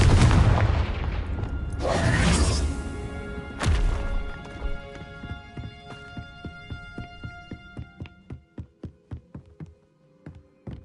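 Confringo blasting spells explode in Hogwarts Legacy, with loud booming bursts near the start and around the middle, then a run of rhythmic, fading thuds and ringing tones.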